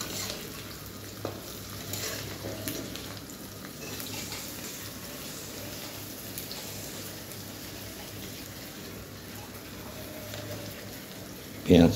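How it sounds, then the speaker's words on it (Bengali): Onions frying in a pan while being stirred, a low steady sizzle with soft scraping throughout and a louder clatter at the very end; faint room sounds sit beneath. "পেঁয়াজটা ভাজতে তো একটু সময় লাগে"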